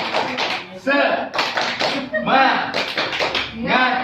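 A group of mothers at a stunting-prevention class claps a rhythmic cheer, bursts of clapping alternating with voices chanting together, close and lively.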